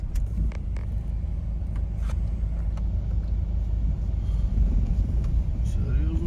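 A car engine labours in a steady, loud low rumble while climbing a rough, steep road near Manglisi, with occasional knocks and rattles from the bumpy track. No one speaks.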